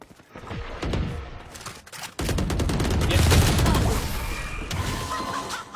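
Gunfire from Reyna's weapon in the shooter game Valorant: a dense, loud burst of rapid shots and crackling impacts, cutting off briefly before a longer sustained volley, with faint voices underneath.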